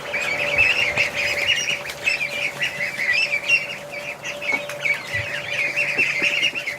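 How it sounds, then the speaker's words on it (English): Baby ducks in an indoor brooder peep in a dense, continuous high chorus, close and steady throughout with no talking. "let's go see the babies. Hello, little ducks."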